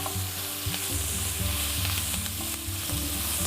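Onions sizzle and fry steadily in a pork roast pan with a little fat, a loud close crackling hiss with soft stirring clatter underneath and no talking.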